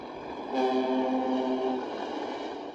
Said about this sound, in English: And diesel engines sound their electric horns.